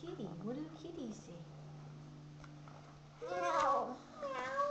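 A voice imitates a cat's meow with a couple of rising and falling mews after an adult speaks, close and fairly soft.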